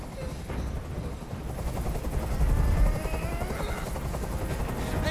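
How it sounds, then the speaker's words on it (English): Helicopter hovering overhead in the video game Detroit: Become Human, a dense rumbling thrum of rotor noise with low pulsing, layered under bursts that resemble gunfire, loud and continuous. "I can't stand that noise anymore. Tell that helicopter to get out of here."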